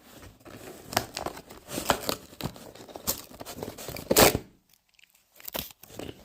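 Packaging crackles and tears in a string of sharp, close bursts during an unboxing at home, with a loud rip near the end followed by a brief hush and a few more rustles.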